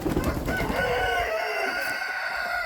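A rooster crows loudly and close by on a small farmyard, its call layered over the clucking of several chickens.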